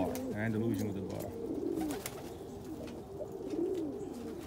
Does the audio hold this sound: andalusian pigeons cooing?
yes